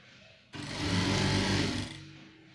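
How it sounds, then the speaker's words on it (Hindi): A sewing machine stitches a belt onto a pair of men's trousers in one quick burst of fast, buzzing whir lasting about a second and a half, close and clear against a quiet room. "यहाँ पर वापस आप सिलाई लगाइए"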